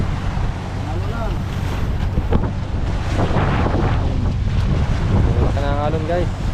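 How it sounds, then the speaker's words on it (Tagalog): Large ocean waves wash and slap around a small boat out at sea, with steady wind buffeting the microphone throughout and a few voices shouting over the noise. "Oh, ang lalaki ng alon."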